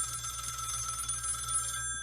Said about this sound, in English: Then the phone rang, and I nearly jumped out of my skin.